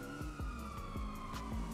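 Police car siren in GTA 5, a wailing tone sounding alongside a driving vehicle engine, moderately faint and continuous through the moment.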